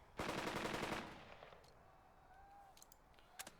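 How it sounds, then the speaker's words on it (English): Distant gunfire in the Burden of Command war game: a dense, loud burst of rapid shots opens, then fades into a low rumble with a few scattered faint reports. "Naval gunfire continues to rumble in the distance."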